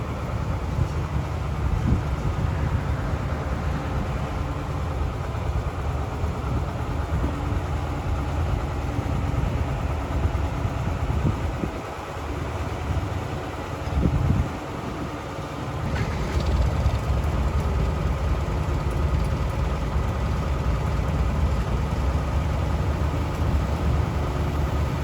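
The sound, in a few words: tractor engine idling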